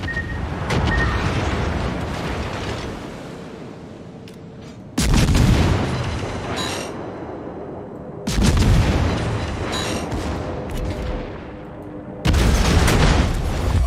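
Naval gunfire and explosions from the World of Warships game: loud, booming salvos strike in three heavy bursts, each followed by a rumbling decay, with no talk.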